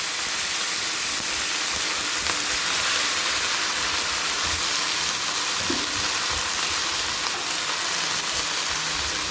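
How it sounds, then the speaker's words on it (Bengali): Neem leaves drop into hot oil left from frying eggplant and crackle and sizzle in a dense, steady, bright hiss that stays loud and continuous throughout. "এবার ওই তেলেই আমি নিম পাতাগুলোকে ছেড়ে দিচ্ছি"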